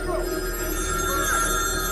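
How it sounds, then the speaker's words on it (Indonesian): Telephone ringing in a tense television drama scene, a continuous electronic ring sustained over a steady background hum, moderately loud and heard alone without talk. "Hingga tak lama mereka mendengar suara telepon."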